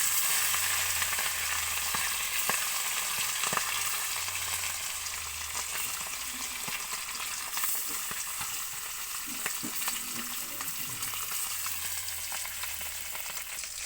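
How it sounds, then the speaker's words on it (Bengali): Pieces of fish rubbed with salt and turmeric fry in a pan, giving a steady, close sizzle and crackle for the whole stretch, with occasional clicks of stirring and no voices. "মাছগুলো ভাজা করে তুলে নেব।"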